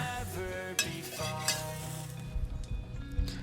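Crushed garlic fries in hot oil in a wok for a stir-fry of bamboo shoots with chicken, a close, steady sizzle broken by scraping stirs and a few metallic clinks.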